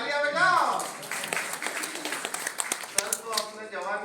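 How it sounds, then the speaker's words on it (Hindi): Audience at a quiz event applauding a correct answer, scattered claps and taps rising among overlapping voices and chatter, fairly close and uneven rather than a full ovation. "तालियां बजाओ"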